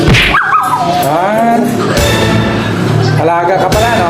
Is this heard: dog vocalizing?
yes